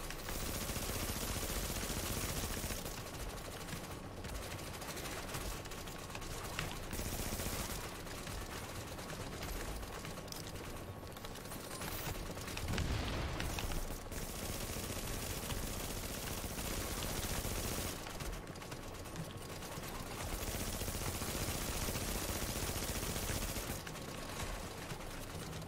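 Continuous loud video game gunfire, with automatic bursts and repeated shots layered over a dense, busy background for the whole stretch.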